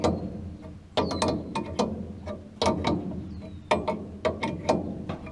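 Metal wrench ratcheting and clanking against a rusted part on a 7300 tractor, in repeated short bursts of clicks and knocks at close range, with no talk.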